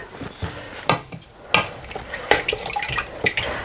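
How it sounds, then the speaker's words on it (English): Water is poured into a cooking pot while making nihari, a splashing, gurgling flow with several sharper clanks and surges, close and moderately loud, no talking. "the second litre of water going in"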